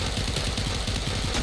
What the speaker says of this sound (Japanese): あ、車来てる。